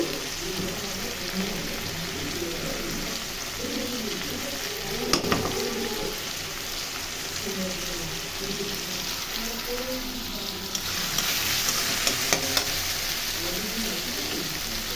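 Potato curry frying in a pan with turmeric and chili powder, a steady continuous sizzle throughout with occasional stirring clinks, no talking.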